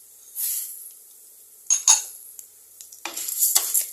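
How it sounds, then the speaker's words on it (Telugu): Chana dal and urad dal fry in a pan for karam podi, giving a soft hiss with a few sharp scrapes and clinks of a spoon against the metal, in short bursts with quiet gaps. "వీటిని కూడా కొద్దిసేపు ఫ్రై చేసుకోవాలి"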